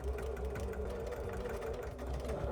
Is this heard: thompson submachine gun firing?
no